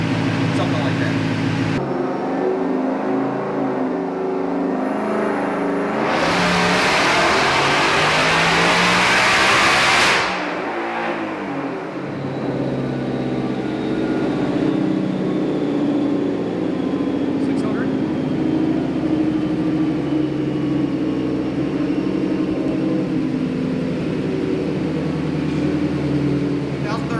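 A Whipple-supercharged 2024 Ford Mustang Dark Horse running on E85 makes a dyno pull, its engine climbing to a loud, dense roar for several seconds before cutting back to a steady lower drone, with people talking throughout.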